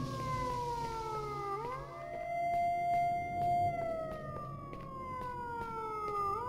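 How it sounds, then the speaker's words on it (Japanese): A wailing siren in the video game S.T.A.L.K.E.R. Shadow of Chernobyl, its pitch rising and falling in long, slow sweeps. It drones steadily and loudly throughout, with no talking over it. "これサイレン止めれないのかな。"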